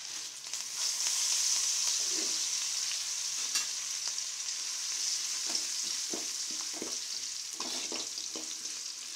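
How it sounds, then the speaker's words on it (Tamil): Dried red chilies, curry leaves and garlic sizzle steadily in hot oil for puliyotharai, a continuous bright crackle with occasional stirring clicks and scrapes of a spoon in the pan. "பரமிளகாயும் கருவேப்பில் தலையும் போட்டுடலாம்"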